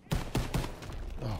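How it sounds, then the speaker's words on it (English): Rapid suppressing gunfire in a shooter video game, several quick loud bursts in succession over a dense, continuous sound. "Keep suppressing fire."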